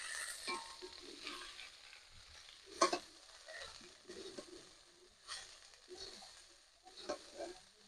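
Cabbage stirred into a hot pan with dried red chilli, five-spice tempering, crushed ginger and green chilli, giving a soft sizzle with scattered scraping stirs and a few sharper clatters, quiet and close.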